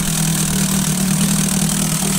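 A Johnson 2.5 outboard motor, recently revived with a replaced primer hose, idles steadily and close by in a continuous even drone with no talk over it.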